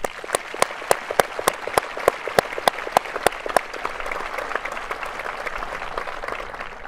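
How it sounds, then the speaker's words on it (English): A high school graduation audience applauds the graduates. Loud, regular, close claps from one person stand out at first, then they blend into a steadier wash of crowd clapping that fades slightly toward the end. "please join with me one more time in applauding the successes of these"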